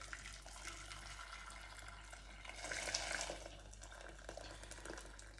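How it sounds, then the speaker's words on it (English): Boiling water pours from a kettle into a pan of eggs, a faint, continuous splashing trickle that swells briefly partway through, with no talking. "Add your boiling water."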